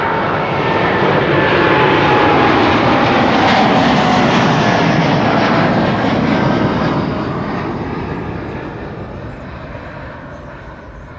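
A fixed-wing airliner takes off at Amsterdam Schiphol Airport, a loud broad engine roar that swells, holds strong, then slowly fades as the plane climbs away, with no voices over it.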